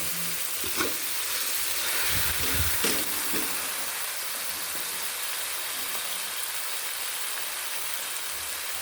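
Spiced masala for chicken biryani fries in a pan with a steady, close sizzle, broken by a few heavier stirring scrapes early on, then a continuous hiss to the end.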